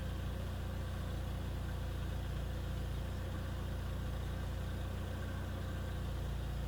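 VW Golf 3 petrol engine idling unevenly as it warms up, a steady close low rumble with a slight wavering in its revs, no talking.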